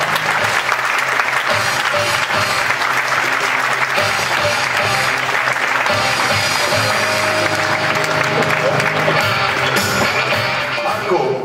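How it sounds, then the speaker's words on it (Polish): Sustained loud applause from a conference audience at an FM Group national conference, dense continuous clapping filling the hall with faint crowd murmur beneath. "Brawa!"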